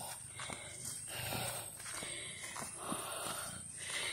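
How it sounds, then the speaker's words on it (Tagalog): Heavy, labored breathing pants in and out repeatedly at close range while walking down a mountain trail, steady and rhythmic, with faint outdoor movement in the background. "Grabe ang hingal ko."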